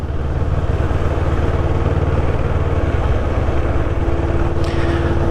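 CF Moto 650NK twin-cylinder motorcycle riding steadily in third gear at about 20 mph, a continuous low engine drone with wind noise, alone and without talk.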